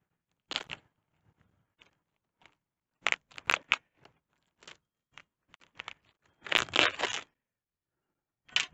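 Scissors or a blade cut through the wrapping on a bundle of about eight southern highbush rabbiteye blueberry bushes, heard as scattered snips, tears and crinkles with one longer tearing burst, close and otherwise quiet.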